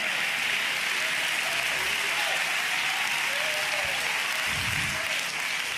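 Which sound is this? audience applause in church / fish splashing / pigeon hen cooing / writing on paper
audience applause in church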